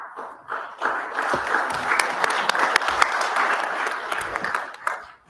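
Audience applause at an in-person CCSC meeting of a healthcare conference, a steady wash of many hands clapping that rises quickly, holds for about five seconds, then fades.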